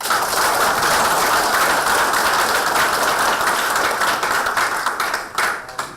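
Sustained, dense clapping from an audience at a Korean policy roundtable with occupational groups, loud and steady for several seconds before thinning out near the end.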